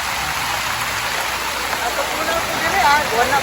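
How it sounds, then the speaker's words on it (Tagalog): Heavy rain pours down in a loud, dense, continuous hiss that swells slightly toward the end. "lalong lumakas yung ulan"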